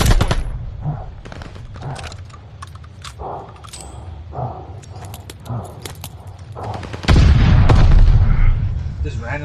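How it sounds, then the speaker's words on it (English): Grenade blasts and bursts of gunfire rattle through a shooter video game match, repeated sharp shots over several seconds before a heavier, louder explosive rumble near the end. "Just randomly throwing nades on me, man."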